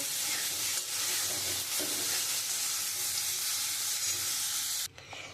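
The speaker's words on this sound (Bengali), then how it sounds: "এবার কাঁকড়ার যে তেলটা ওটা আমি দিয়ে ভেজে তুলে নেব।" Crab pieces frying in hot oil give a loud, continuous close sizzle with stirring, then a sudden drop to quieter crackle near the end.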